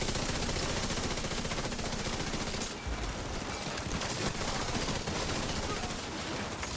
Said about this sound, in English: And my gun's going crazy right now with this momentum stuff going on